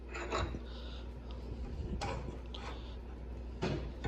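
A flat file scraping along a heavily rusted frame clamped in a vise: repeated rough rasping strokes, close and fairly loud, with a few harder scrapes spaced a couple of seconds apart, no voices.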